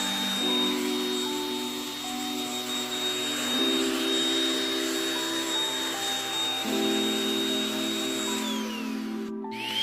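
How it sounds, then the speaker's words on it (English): A Bobbit Dust Mite handheld vacuum cleaner runs steadily with a droning motor whine and shifting tonal hum, close and continuous throughout, ending with a brief clunk. "I finally got this Bobbit Dust Mite vacuum cleaner"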